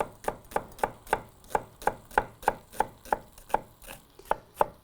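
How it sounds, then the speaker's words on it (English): A knife with a German Zwilling blade chops a Vidalia onion on a cutting board in about fifteen crisp, evenly spaced strokes, close and clear with no talk. "Okay, so we got our Vidalia onion almost cut."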